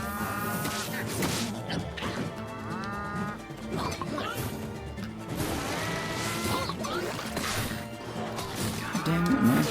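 Cattle mooing in the video game Town of Zoz, several loud drawn-out lowing calls repeating across the whole stretch over busy game sounds and occasional thumps.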